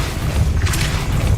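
Hogwarts Legacy Depulso spell hits with a deep, booming low thump that rumbles through the whole moment, topped by a brief bright magical shimmer partway through.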